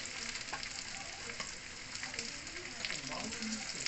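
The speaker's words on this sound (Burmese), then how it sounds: "အသားကထူရောလေမီအေးလေးနဲ့ပဲကြော်ပေးမယ်" Thick beef steak frying in a pan over low heat, giving a steady, soft, close sizzle that runs the whole time with a few faint crackles and no talk.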